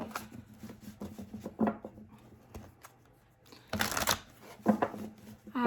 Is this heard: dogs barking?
no